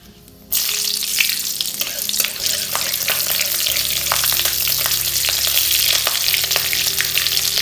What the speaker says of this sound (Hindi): अब इसमें मैंने 3 जो हरी मिर्च ली थी वो डालूंगी।